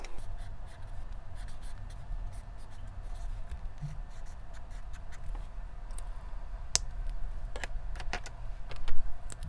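Soft scratching of a pen writing a heading in a Hobonichi Techo journal, close-up strokes with small taps and paper rustles over a low background hum.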